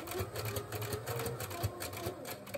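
A sewing machine stitches a baby memory quilt, running in a steady, fast mechanical rattle from start to finish, close and moderately loud, with no voices.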